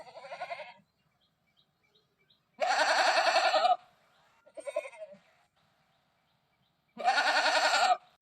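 Village goats bleating near a hill by the fields, several loud drawn-out calls with quieter shorter bleats between them and silent gaps.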